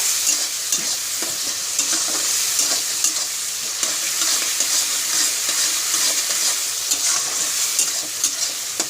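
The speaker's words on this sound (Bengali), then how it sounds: "এবারে এটাকে আমি ভাজবো" Chopped ginger, garlic and green chili frying with salt and turmeric in a pan, a steady bright sizzle with stirring scrapes throughout.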